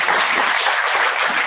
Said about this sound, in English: can I ask that we all give another round of applause to the speakers?